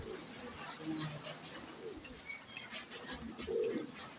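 Soft, low coos from pigeons in a loft come and go over a quiet background, with a louder coo near the end and faint chirps in between.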